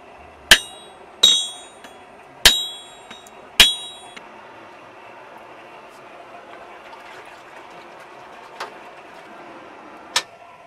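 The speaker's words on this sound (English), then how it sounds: "I'm going to strike it with another hammer" Metal rings out from four sharp strikes of a hammer on another hammer used as a flatter, in quick succession, each clang decaying briefly, followed later by two fainter taps.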